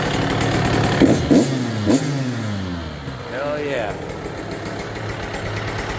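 A GasGas MC450 Factory Edition dirt bike engine runs close by, a loud throaty idle with quick blips of revving, while someone speaks over it.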